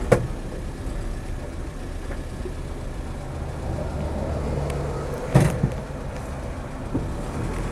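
A Land Rover 88-inch Series III truck cab fires up at once and settles into a steady, rumbling idle, close by, with a brief knock partway through.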